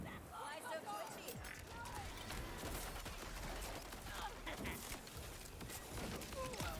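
Jakobs shotguns fired in a video game, a busy stretch of repeated gunfire and clattering action effects running continuously under a player's talk.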